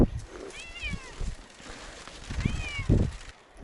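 A cat named Bugaboo on a house framing site with Tyvek gives two clear, drawn-out meows, with low handling noises and faint bumps around them nearby.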